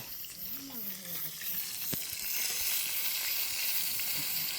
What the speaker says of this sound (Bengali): দিদা রান্না করছে, দিদার মাছ ভাজা।